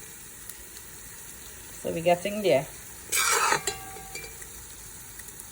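Curry frying in a pot, with a spoon scraping and stirring in a couple of short bursts over a faint sizzle, and a brief spoken remark between them.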